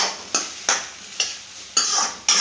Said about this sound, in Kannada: ಈ ಥರ ಫ್ರೈ ಆಗಬೇಕು ಸ್ವಲ್ಪ ಸೋರೆಕಾಯಿ